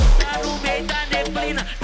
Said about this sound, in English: Followed by just fat kicks, like the kicks just take over the whole mix.